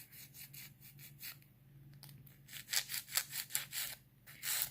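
Nail file rasping across an acrylic nail tip in quick back-and-forth strokes, close and quiet, with a brief pause before a faster, louder run of strokes.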